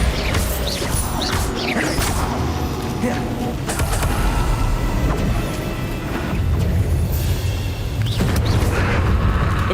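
Bombarda spell explosions in the video game Hogwarts Legacy, loud booming blasts and crashes repeating through dense combat noise, with a voice calling out spell names.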